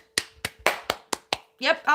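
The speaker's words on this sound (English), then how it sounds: "I'm gonna give myself a round of applause" A single person claps for himself, six sharp, close hand claps at a quick, slightly uneven pace, followed by a brief burst of his voice.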